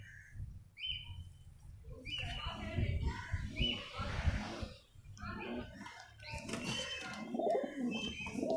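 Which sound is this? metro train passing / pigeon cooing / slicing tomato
pigeon cooing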